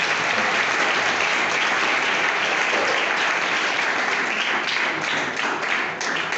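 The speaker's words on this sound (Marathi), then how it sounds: "तर आता वेळ न गमावता तुम्ही टाळ्या वाजवून त्यांचं एकदा स्वागत करून टाका." An audience at an English school and junior college motivational speech event applauds steadily and loudly, welcoming guests onto the stage, with dense clapping sustained throughout and no talk over it.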